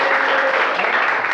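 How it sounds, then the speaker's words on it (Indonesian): A classroom group in a teacher training session gives Najwa a brief, full round of applause: continuous dense clapping, loud and even from start to finish. "tepuk tangan kita semua."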